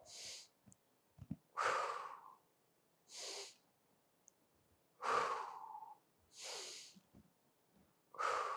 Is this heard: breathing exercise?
yes